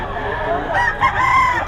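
Close, loud rooster crowing at a gamefowl stag market in Bulacan, a single drawn-out call rising over a busy background hum.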